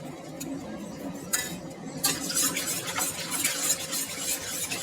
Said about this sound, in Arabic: وبالنسبة للسكر نحط معلقة سكر علشان نساعده ان هو يخمر. قلبناه كده كويس قوي اهو